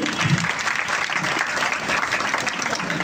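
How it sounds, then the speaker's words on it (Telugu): A crowd at a high school's 78th Independence Day celebration claps steadily and loudly, a dense, continuous wash of applause filling the whole moment. "ఒకసారి గట్టిగా సార్ క్లాప్స్ కొట్టండి"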